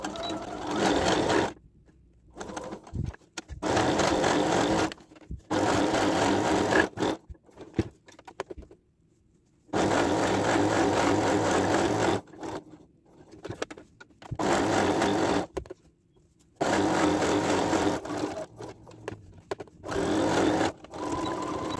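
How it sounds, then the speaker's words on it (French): A sewing machine runs a seam on its tightest stitch with a 1 cm seam allowance, whirring in repeated bursts of a few seconds separated by short pauses. "je vais régler ma machine à une distance de 1 cm et je vais utiliser le point le plus serré"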